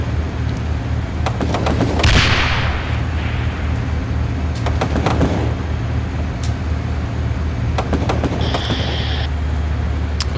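Mortar and gunfire during a Steel Beasts Pro Finland campaign battle: a few heavy booming impacts with scattered sharp cracks over a constant low vehicle rumble, without speech.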